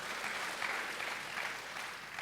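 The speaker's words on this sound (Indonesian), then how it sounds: "Sekali lagi dong tepuk tangan buat Tuhan." A church congregation claps together in sustained applause for God, a steady dense wash of hands at moderate distance with no talk over it.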